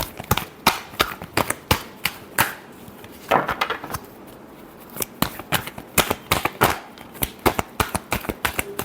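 Tarot cards being shuffled by hand, a long series of crisp, rapid riffling slaps and flicks close up, uneven in rhythm with short clustered bursts.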